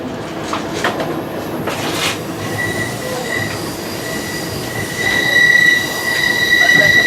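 Wheels of the Coast Starlight passenger train squeal as it climbs the Cuesta grade through a sharp curve: a continuous rolling rumble with a shrill, wavering squeal that grows louder and steadier toward the end.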